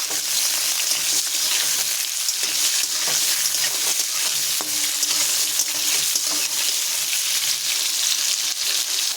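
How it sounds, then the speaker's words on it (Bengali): Ridge gourd fries in oil in a pan, a loud, dense, unbroken sizzle heard up close, with faint stirring scrapes underneath. "ঝিঙেটা পুরো আলগা ভেজে নেব"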